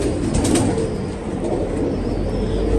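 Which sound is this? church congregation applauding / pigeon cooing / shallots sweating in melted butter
pigeon cooing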